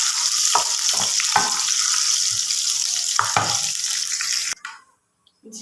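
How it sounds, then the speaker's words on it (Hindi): Garlic and cumin tempering sizzle steadily in hot oil, a loud continuous frying hiss broken by a few stirring clacks, then it cuts out abruptly near the end. "इसमें लगेंगे हम लहसुन, आधा लहसुन, साथ में उसमें चालू कर दिया जीरा। इसको कर लेंगे ब्राउन और तड़के को कर लेंगे हम ब्राउन।"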